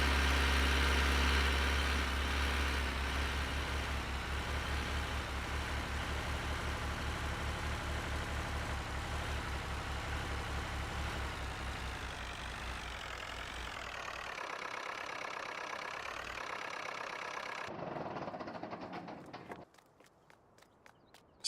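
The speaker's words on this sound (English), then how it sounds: "Our fantastic tractors that have done such a wonderful job for us." A tractor engine idles in the Farming Simulator 19 video game, a steady low rhythmic chugging drone that stays loud and even before thinning out and cutting off near the end.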